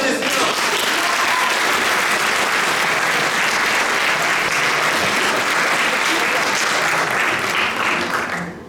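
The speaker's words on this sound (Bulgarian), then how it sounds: "Аплодисменти, Симеон!" A dense, loud burst of audience applause for Simeon, sustained steadily across the whole stretch with no gaps, then tapering slightly at the very end.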